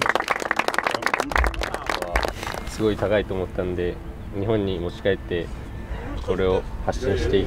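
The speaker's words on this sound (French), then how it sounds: "Donc je pense qu'on va tous les applaudir." Small group clapping for three Japanese FC Machida Zelvia players at the OL Academy in Lyon; a short, dense burst of claps comes first, then people talk.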